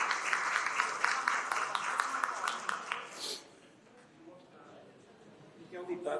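A conference workshop audience applauds a birthday attendee with a brief burst of clapping lasting about three seconds, then quiet room tone with faint talk afterward.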